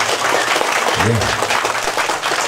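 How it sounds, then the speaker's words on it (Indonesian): An audience applauds for a large family, giving a dense, steady burst of clapping that runs throughout, with a brief voice rising above it partway through. "tepuk tangan dulu untuk keluarga besar kami"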